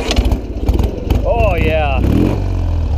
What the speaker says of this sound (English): See if we can get the old R50 to crank over real quick.